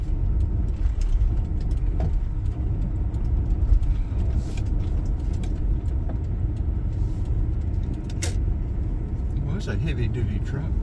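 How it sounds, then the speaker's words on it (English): Rumbling road traffic passing near railroad tracks in Georgia, a low continuous engine drone consistent with a heavy-duty truck rolling by, steady and fairly loud with brief higher clatters. "It's a heavy-duty truck."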